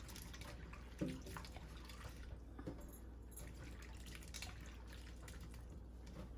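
Water runs and splashes steadily with occasional drips and clatter as salted bitter gourd (karela) is rinsed under a tap; no one speaks.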